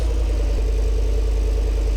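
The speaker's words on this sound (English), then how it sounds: "this truck has a very nice sound." Truck engine in Farming Simulator 19 idling steadily, a continuous low rumble with a mid-range drone, heard alone at even loudness.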